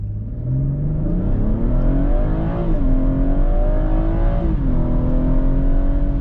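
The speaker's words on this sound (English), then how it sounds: "Left foot on the brake, full throttle, go." BMW 440i with about 400 horsepower launching at full throttle, its engine rising loudly with two quick upshifts breaking the climbing note, heard close and alone.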